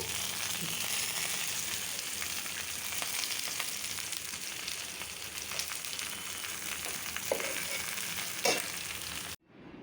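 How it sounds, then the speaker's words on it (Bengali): Shrimp and loitta dried fish dipped in gram flour batter sizzle in hot oil, a continuous loud frying hiss with faint stirring clinks, ending abruptly near the close. "এগুলো বেসন দিয়ে চুবিয়ে চুবিয়ে ভাজবো"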